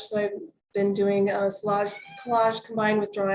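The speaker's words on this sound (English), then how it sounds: "That's my cat again." A cat meows a few times close by, its cries mixed in with someone talking steadily about her art.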